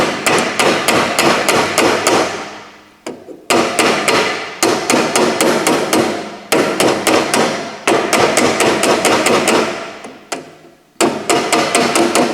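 A hammer taps a sheet metal flange upward against a hand-held dolly while a car's front apron panel is fabricated. Quick, even metallic blows come in steady runs, loud and close, with brief pauses between the bursts.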